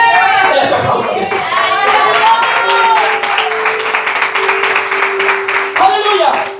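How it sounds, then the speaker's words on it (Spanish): A church congregation claps for Jesus, rhythmic hand clapping rising under a loud, sustained voice and musical tones, with people shouting and talking over the clapping. "Ese aplauso a Jesús."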